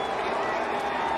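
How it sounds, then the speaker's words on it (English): Dense, steady crowd roar fills the stands at a NASCAR Cup race in Atlanta, a broad continuous wash of cheering with no breaks, loud and close throughout. "the crowd roaring as they see the 9 go to the front"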